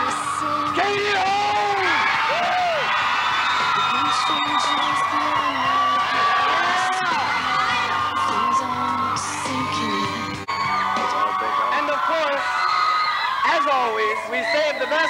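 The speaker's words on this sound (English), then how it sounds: "I want to hear the guys scream this time." A concert crowd yells, whoops and screams at a televised concert special, a loud sustained roar that fills the whole stretch, with a host's voice over it.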